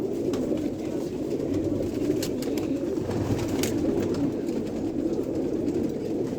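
Teddy pigeons in a large loft coo at night in a dense, continuous murmur of overlapping calls, fairly loud and close.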